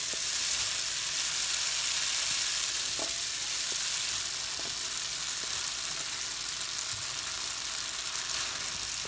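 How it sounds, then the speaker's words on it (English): Pasta hits a pan of spicy garlic butter sauce, giving a steady, hissing sizzle throughout, with a few light clicks from a utensil and no talking. "So then now we're actually going to add the pasta to the sauce."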